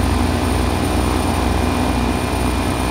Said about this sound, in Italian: Possiamo spegnere il motore, il turbo off